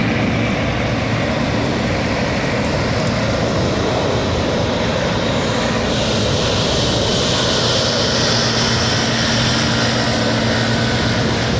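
A loud, steady mechanical roar of a combine harvester threshing with a sunflower header in a field, with a droning engine and a whining tone appearing partway through, no talk.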